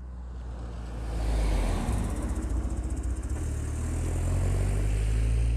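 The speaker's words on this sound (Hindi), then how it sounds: "आवाज़ आ गई थी गाड़ी गुज़रने की" A car passes by outside, a low engine rumble that swells to a loud peak and then eases off, holding steady beneath a faint background hiss with no one speaking.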